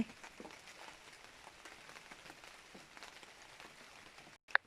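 Rain patters lightly and steadily outdoors around a home garden, a faint soft wash of drops with no talk, ending in a brief sharp click.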